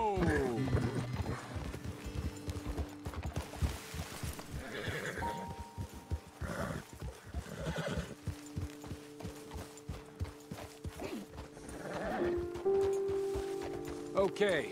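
Horse hooves clip-clopping steadily while riding in the video game Red Dead Redemption 2, with whinnies, creaking tack and mechanical ticks, as a voice talks over the close, continuous riding.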